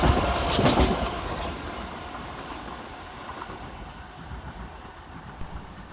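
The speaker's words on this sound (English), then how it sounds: "Next up for C2C, 357012 and 357034, working 9 Zulu 56 from London Liverpool Street to Shoebury Nest." C2C Class 357 electric multiple units pass through Bethnal Green station in London, a steady rumbling roll of wheels on rail with brief high squeals and clicks early on, fading slightly, no talking.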